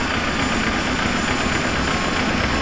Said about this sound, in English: Start engine 2.